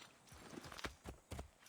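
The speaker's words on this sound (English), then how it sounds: "And a horse, just for me." Horse hooves in the Assassin's Creed 3 video game give a few faint clip-clops, spaced irregularly, with no speech.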